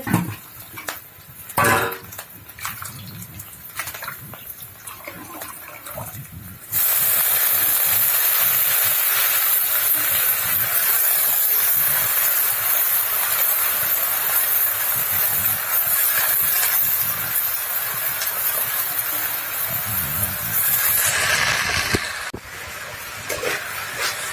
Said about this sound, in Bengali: এই যে কপিটা হাফ ভাজা হয়ে গেছে।